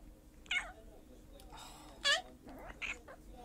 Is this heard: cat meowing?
yes